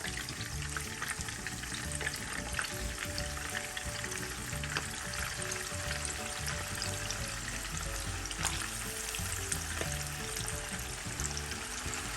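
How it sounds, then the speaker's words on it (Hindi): Chicken pieces fry in hot oil for biryani, giving a loud, steady, close sizzle with crackling and occasional stirring throughout. "अब हमारा ऑयल गर्म हो गया, इसमें हम चिकन डाल रहे हैं।"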